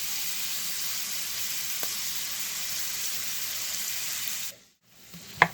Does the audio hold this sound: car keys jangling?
no